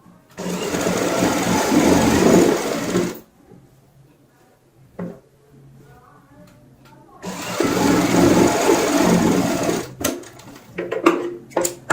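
A sewing machine stitches the lining seam of a readymade gown being altered: two loud, close, continuous whirring runs separated by a quieter pause of cloth handling and small clicks.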